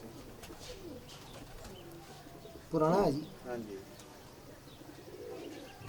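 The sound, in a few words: pigeons cooing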